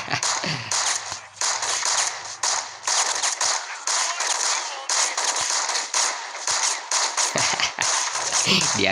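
Gunfire in the Six Gun mobile video game, repeated sharp shots in rapid bursts, loud and close, with brief gaps between volleys and game background sound.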